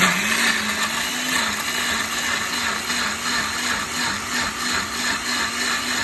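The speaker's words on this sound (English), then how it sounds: "We're just gonna blend it until it's like all smooth." A blender runs continuously, blending Jamaican purple sea moss until smooth, a loud steady close whir with a slightly wavering motor pitch throughout.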